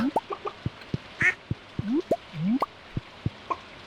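Ducks in the farm game Stardew Valley let out several short, bright quacks mixed with wet plopping and dripping blips, a busy rapid sequence of close, fairly loud game sounds.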